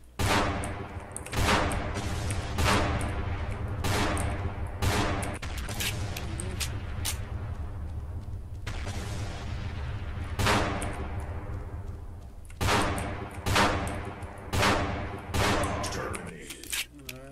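Gunfire in the video game Mad Combat Marines: rapid, loud bursts of automatic shots and single cracks, spaced unevenly across a long firefight, with a fuller stretch of sustained fire in the middle and game background sound throughout.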